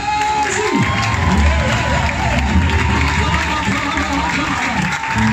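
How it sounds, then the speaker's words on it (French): A church congregation cheers and acclaims Jesus during a worship service, a dense, continuous wash of crowd shouting and applause filling the whole stretch at steady loudness. "Si tu crois cette parole, acclame de Jésus."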